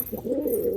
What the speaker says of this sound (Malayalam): ഇത് നമ്മളവിടെ നല്ല പ്രാവ് കേട്ടോ